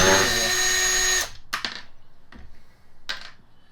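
A power screwdriver whirs briefly while backing screws out of an ECHO DHC-2300 56V battery hedge trimmer, followed by a few sharp clicks and taps of handling the housing and parts.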